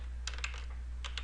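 Quick keystrokes on a computer keyboard tap out a short command, two brief clusters of close, light clicks separated by a pause.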